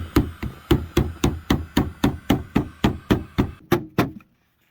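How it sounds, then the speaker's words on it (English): A hammer strikes the door of a 1951 Pontiac Chieftain about fourteen times in a steady, even rhythm, each blow sharp and ringing, before stopping into silence. "the idea of hitting it with a hammer is, yes, we may be beating up the paint a little bit"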